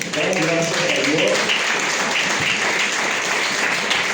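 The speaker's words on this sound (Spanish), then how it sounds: "Fuerte aplauso al Señor." Church congregation applauding together, a steady, dense wash of clapping that fills the space for several seconds without pause, with faint voices mixed in underneath.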